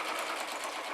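A sewing machine stitches steadily at close range, giving a fast, even whirring buzz that runs without a break for the whole second, with no talk over it.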